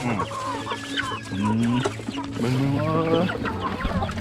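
Chickens cluck and squawk nearby on a Thai farm, several birds overlapping in a busy, continuous chorus of short calls and drawn-out notes.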